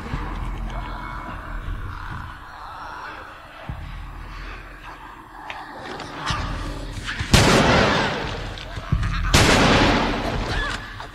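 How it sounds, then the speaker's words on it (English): Gunshots in The Last of Us, two loud sharp cracks standing out after a quieter stretch of game ambience and someone talking. "So there's 3 shots."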